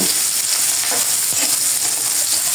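Onions and chillies frying in oil as they are stirred in a pan for a Bengali pabda fish curry, giving a steady, loud sizzle with faint scraping touches throughout.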